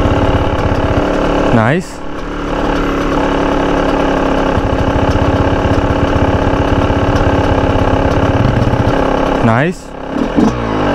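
A Yamaha YZ125 two-stroke dirt bike engine runs steadily and loudly close by, its buzzy drone held at an even pitch. Brief voices speak over it.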